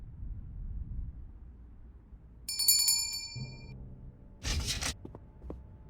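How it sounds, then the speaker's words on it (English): A bell-pull doorbell in the Lost Chronicles of Zerzura game rings out in a bright cluster of metallic chimes, followed by a creak and a sharp burst of clattering noise, with quiet ambience around it. "I can feel a rope. Perhaps some kind of doorbell?"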